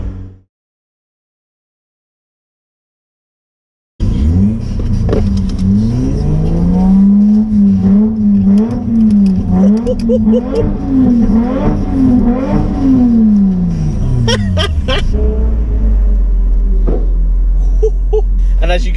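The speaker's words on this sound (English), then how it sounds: "as you can hear by the pops and bangs behind, there is another car joining me" A modified Mk1 Mazda MX-5 drives along after a few seconds of silence, its engine note droning steadily and rising and falling under load, with a few sharp exhaust pops near the end.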